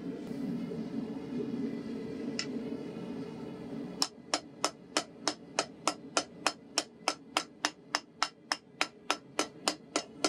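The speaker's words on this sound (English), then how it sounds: "mark it by hammering in a notch" Hand hammer striking a forged recurve hunting knife blade to mark a notch, a steady run of sharp metallic blows, about two per second, close and loud after a quieter stretch of background noise.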